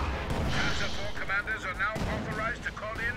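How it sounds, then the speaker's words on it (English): Rocket artillery fire and explosions in a World War II strategy video game, with a Kettenwerfer launching a salvo at a Sherman tank: a dense, loud run of booming blasts under game speech and a commentator's talk. "Kettenwerfer does get a shot off on the Sherman right there."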